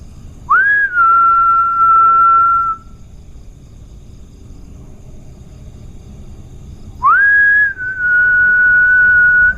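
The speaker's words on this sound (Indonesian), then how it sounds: "Siul ya." A person whistles two long steady notes, each opening with a quick upward slide and then holding level, separated by a few seconds of quiet, at night inside a reputedly haunted building in Bekasi.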